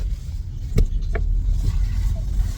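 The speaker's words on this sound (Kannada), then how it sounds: "ಬಸ್ ಸ್ಟಾಪ್ ತನಕ ಕಾರಲ್ಲಿ ಹೋಗೋದು" A car is driven on the way to a bus stop, heard from inside the cabin as a steady low road rumble with a couple of short clicks.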